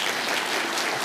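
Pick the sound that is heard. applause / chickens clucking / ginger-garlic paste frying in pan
applause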